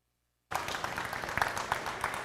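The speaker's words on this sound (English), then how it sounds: "Nice round of applause." Applause from an audience at a cattle show, a dense, steady patter of many hands starting abruptly after a short silence and holding at moderate loudness.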